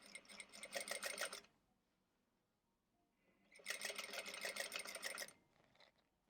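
A sewing machine stitching a fabric sleep mask runs in two bursts of steady, rapid mechanical whirring and clatter, about a second and a half each, separated by a quiet pause.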